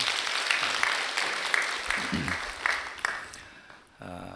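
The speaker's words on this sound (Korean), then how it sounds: "박수 한번 해주시기 바랍니다" Church congregation applauding during a weekday sermon service, a steady wash of many hands clapping at moderate distance that fades out toward the end, with a voice coming in afterward.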